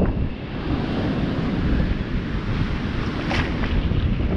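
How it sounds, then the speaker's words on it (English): Steady wind buffets a beach with ocean surf rolling in beneath it, a continuous broadband roar that is loud and close, with microphone wind noise swelling slightly near the end. "I'm going north today in the face of the wind"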